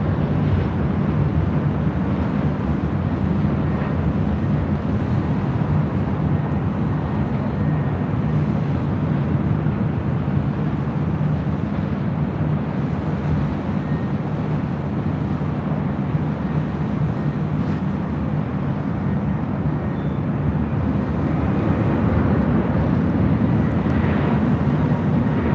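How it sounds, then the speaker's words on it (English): Delta Airbus A319 arriving at LAX from SFO, a loud continuous jet roar filling the whole stretch, steady with slight swells as it passes. "It's like A319 with Delta also coming in from SFO."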